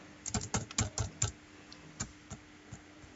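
Fingers tap out an answer on a computer keyboard, a quick burst of close, crisp keystrokes followed by a few slower, lighter presses.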